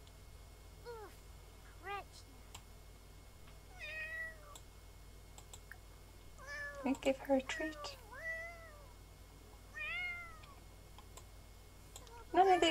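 Cat in The Sims 4 meowing several times in short, rising calls spread across the stretch, with mouse clicks and someone talking in between.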